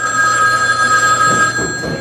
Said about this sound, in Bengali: উত্তর দিঘি থেকে বিরাজ দত্তর কাছে ফোন এলো